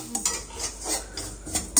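Grated coconut dry-roasting in a pan, turned with a metal spoon that scrapes and taps against the pan in uneven bursts over a faint crackle.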